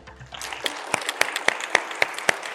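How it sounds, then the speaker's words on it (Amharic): A studio audience on a televised game show breaks into applause for a sponsor, starting after a brief quiet lead-in and settling into loud, evenly spaced sharp claps that dominate up close. "ስፖንሰራችን ህብረት ኢንሹራንስን ሞቅ ያለ ጭብጨባ"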